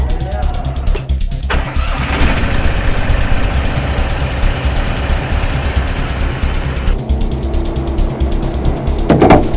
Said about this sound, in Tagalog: Start natin yung makina natin.